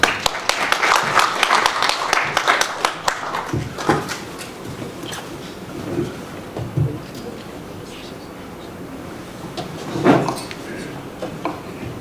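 An audience at a Korean animation awards night claps to welcome a presenter. Dense, loud applause fills the first few seconds, then thins to scattered claps and a faint murmur of voices.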